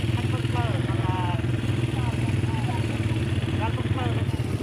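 A tractor engine chugs steadily with a low, rhythmic diesel throb while pulling a hearse in a Thai funeral procession, close and continuous, with voices speaking over it.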